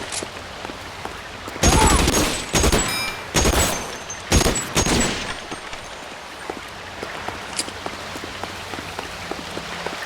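Gunfire in the L.A. Noire arson-desk case, several loud close shots clustered in the first half, sounding over a steady hiss like rainfall, with fainter scattered cracks afterward.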